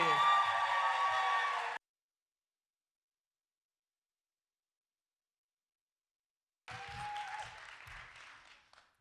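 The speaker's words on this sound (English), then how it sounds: "Huge round of applause for Mackenzie!" Audience applause swells at a talk-series event, a loud burst of clapping that cuts off, then after a silent gap a second, somewhat softer round of clapping and cheering rises and fades.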